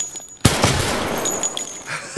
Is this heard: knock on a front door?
no